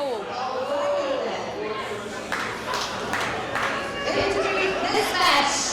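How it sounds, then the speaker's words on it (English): Crowd chatter fills the Orpheum in Ybor City during a women's wrestling show, a steady murmur of many voices with scattered claps, while an announcer speaks over it. "hearing it from the crowd here at the Orpheum in Ybor City."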